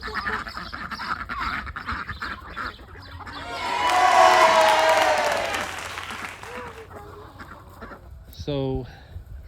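Ducks quack in a noisy flurry that swells and fades, with outdoor background sounds and a brief separate call near the end.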